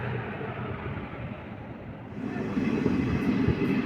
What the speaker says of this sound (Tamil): நம்ம ட்ரெயின் இந்த ஓமலூர் ஜங்ஷன் ரயில்வே ஸ்டேஷன்லேருந்து கிளம்பிடுச்சுங்க